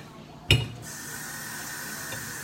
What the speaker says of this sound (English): Add just some water like I said.